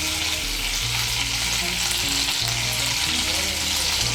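Black cumin seeds sizzle steadily in hot mustard oil left in a wok after frying fish, a loud, continuous crackling fry with no voices.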